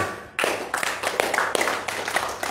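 An audience at a religious talk bursts into applause, with dense, close clapping and a few sharper accents throughout.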